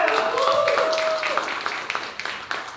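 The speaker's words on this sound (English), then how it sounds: "One more round of applause for our panelists." An audience at a policy panel claps for the panelists. A tonal sound fades out as scattered, moderately loud claps build into a short round of applause.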